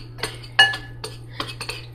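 A utensil clinks and scrapes against a bowl in short irregular taps while grated Parmigiano cheese is stirred into breadcrumbs for homemade mozzarella cheese sticks.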